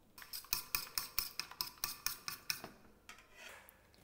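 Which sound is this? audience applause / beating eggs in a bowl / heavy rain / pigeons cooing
beating eggs in a bowl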